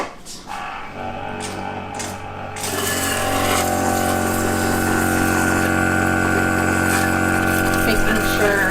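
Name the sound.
ear wax removal machine pumping tap water rinse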